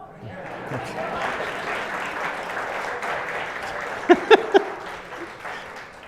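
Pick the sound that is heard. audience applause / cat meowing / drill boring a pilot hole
audience applause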